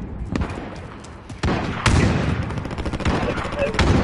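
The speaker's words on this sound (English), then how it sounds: "I fucking spanked one with 50 cal" Heavy .50 cal gunfire in a first-person shooter, with several sharp, loud shots and bursts cutting through a busy battlefield, mixed with light talk.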